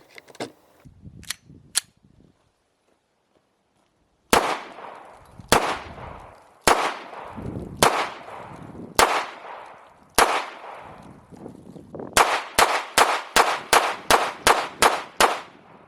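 Stainless steel Smith & Wesson Model 659 second-generation 9mm semi-auto pistol firing: a few sharp shots, a pause, then spaced loud reports and a rapid closing string of shots, each ringing out crisply.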